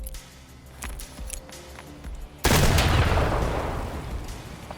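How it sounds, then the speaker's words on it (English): In a video game, a VOG-17 grenade is thrown underhand: a few soft clicks and handling sounds, then a sudden loud explosion whose booming roar decays over two seconds. "Now this is an underhand throw of the VOG 17."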